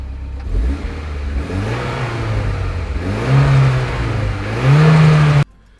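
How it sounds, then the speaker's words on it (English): A Mitsubishi Lancer Evo X engine with stock exhaust revs up repeatedly, rising and falling in pitch over a steady drone, then cuts off abruptly near the end. "the engine noise inside the car is actually louder than the exhaust sound"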